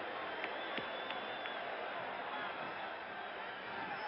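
Yankee Stadium crowd after the Yankees win the 1977 World Series against the Dodgers, a distant, steady roar of cheering with faint scattered claps, under a broadcaster's voice.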